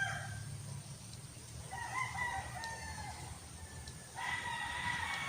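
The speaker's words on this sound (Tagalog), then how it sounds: "Naririnig ko lang mga manok." Roosters crowing and hens clucking in a neighbor's yard, the calls coming from a moderate distance over a low hum of background noise, with a louder crow bursting in near the end.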